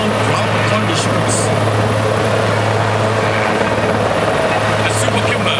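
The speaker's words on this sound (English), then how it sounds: "The Super Puma is also used for search and rescue, medical and casualty evacuation" A Super Puma helicopter flies at an air force open house aerial display, its loud, continuous rotor and turbine roar steady throughout with a low throbbing pulse and a commentator speaking over it.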